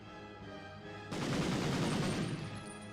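Gun turrets in Medal of Honor open fire with a sudden, loud, sustained burst of rapid gunfire that continues to the end.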